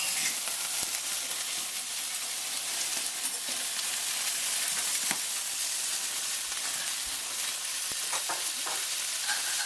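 Liver frying in a pan at home, a steady close sizzle and hiss with occasional pops and stirring scrapes, no talk.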